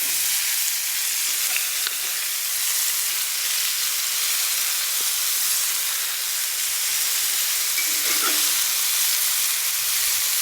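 Fish searing in a pan on a wood stove, a steady, close, bright sizzle and hiss that continues throughout with a few small pops and clicks.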